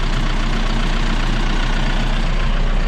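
Tractor engine idling out in a hay field, a steady low rumble that holds loud and even throughout with no talk over it.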